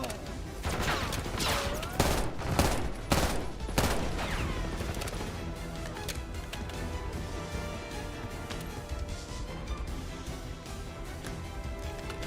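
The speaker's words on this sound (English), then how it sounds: "They're shooting! Get down!" Video game gunfire breaks out in heavy, rapid volleys of loud shots clustered in the first few seconds, then gives way to sparser fire and a lingering battle rumble.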